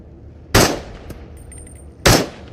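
Two sharp, loud gunshots in the VR shooter Into the Radius, about a second and a half apart, each ringing off with a short tail and a faint metallic clink between them, no talking.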